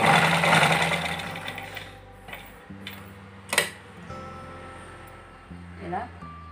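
A domestic sewing machine stitching along a cotton blouse, running in a steady ticking rhythm with short pauses and restarts, close and moderately loud, with someone speaking over it.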